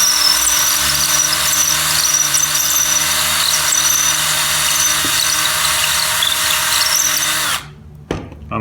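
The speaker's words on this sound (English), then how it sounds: "this is a piece of emery tape that I use for polishing stuff on the lathe" Emery tape polishes the inside of a rusty hole on a running lathe during a car door repair, giving a loud, sustained abrasive whine with a squealing edge that suddenly cuts out near the end.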